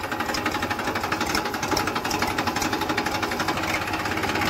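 A Massey Ferguson 241 DI tractor engine running nearby, a loud steady rapid diesel chug with a rattling, knocking rhythm throughout.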